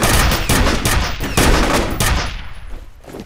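Rapid gunfire bursts in the shooter game F.E.A.R., loud dense volleys with sharp repeated cracks that thin out toward the end into fading echoes.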